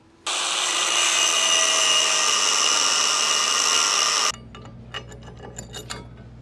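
A power tool cuts for about four seconds during work on a boat's rudder and prop, a loud, steady, high-pitched whine that stops abruptly. Light knocks and small clinks follow.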